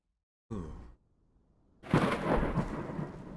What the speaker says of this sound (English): Hear that thunder?